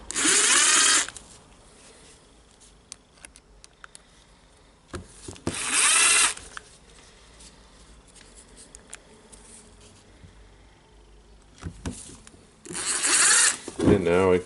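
Short bursts of a small driver spinning screws into the housing of a Makita DGA452 angle grinder, three separate runs of a second or so each, close and loud, with quiet handling noises and faint talk between them.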